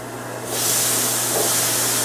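Pineapple laid onto a hot comal, a sudden loud hissing sizzle that bursts in after a quiet hum and holds steady.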